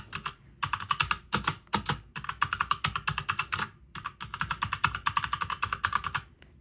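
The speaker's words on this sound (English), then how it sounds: "this is the brown keystroke sound" Rapid, steady typing on a compact 61-key 60% STOGA mechanical gaming keyboard fitted with brown switches, producing close, crisp clacking keystrokes in bursts with brief pauses between them and no talking.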